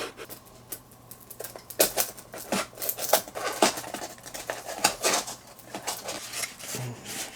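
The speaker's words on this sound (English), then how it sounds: "So I'm just going to have to cut a little notch in here." A small notch being cut into a plastic toy part, a close series of irregular snipping and scraping clicks over a faint steady hum.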